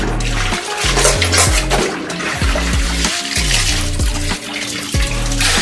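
Clothes are washed by hand in water in Jamaica, giving continuous sloshing and splashing with rhythmic scrubbing pulses, close and loud, with no one speaking.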